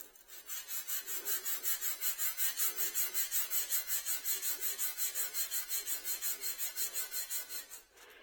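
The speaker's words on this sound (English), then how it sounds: "I have some sandpaper. I'm just gonna run it through sandpaper for" A jointer plane iron is rubbed back and forth on sandpaper, producing a steady series of about two dozen rhythmic rasping strokes, close and soft, with no talking.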